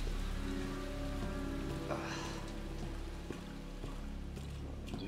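Steady video game rain patters on a surface with a continuous wash of drops, a low background hum beneath and a few brief clunks and ticks.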